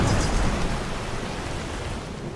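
Storm Call shout summoning a thunderstorm in Skyrim, heard as a steady, loud wash of rain and rumbling thunder filling the whole short stretch without a break.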